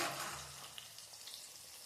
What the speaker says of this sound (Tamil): பொன்னிறமாக எண்ணெயிலே நல்லா வதங்கி வரணும்